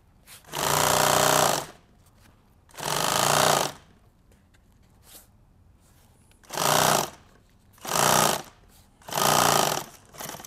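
A sewing machine stitches stiff coated Cordura fabric in five loud, sustained bursts of rapid mechanical chatter, each lasting one to two seconds, separated by short quiet pauses with faint handling sounds.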